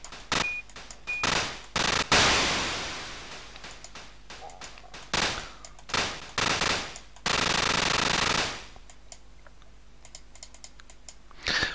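Gunfire from the retro video game Zarch comes as rapid, harsh bursts that repeat in short volleys, mixed with close, clattering computer keyboard clicks throughout.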